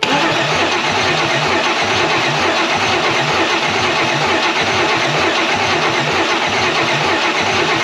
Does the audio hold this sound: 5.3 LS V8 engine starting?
yes